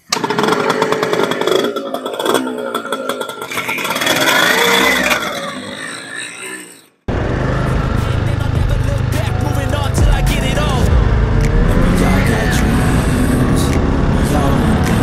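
Vintage Yamaha Calimatic 175 and Suzuki AX100 motorcycles running, with raspy two-stroke engine buzz and revs close by, an abrupt cut midway, then a lower running rumble.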